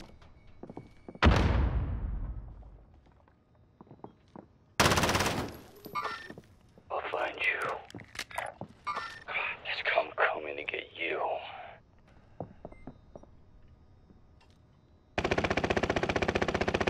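Gunfire from the Call of Duty: Modern Warfare video game: a sharp single shot, then a loud burst, followed by rapid bursts of automatic fire with clattering game effects, ending in sustained loud noise; a voice speaks between the shots.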